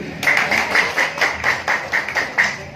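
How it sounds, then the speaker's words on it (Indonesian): A group at a Menwa alumni gathering claps in a steady, rhythmic unison beat, about four claps per second, loud and close. "Tepuk tangan dulu."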